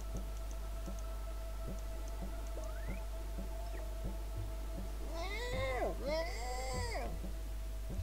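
A cat meows in the video game Machinarium, two drawn-out cries close together near the end over a low electrical hum and soft ticking clicks.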